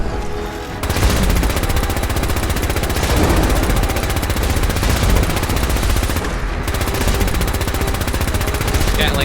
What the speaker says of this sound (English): Gatling laser is much better.